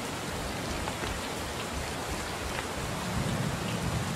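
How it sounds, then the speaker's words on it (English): Rain in an Unreal Engine 4 dynamic weather demo, a dense, even hiss of falling rain with pattering drops, steady and fairly close, swelling slightly near the end. "Right, started raining, and yes, it's getting wet as expected."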